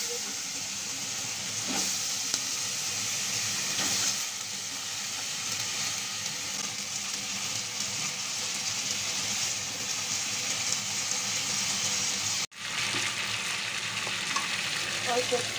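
Spice paste for a bean curry (shim torkari) sizzles and fries in a pan while being stirred, a steady close hiss with small scraping bursts and one brief cut near the end.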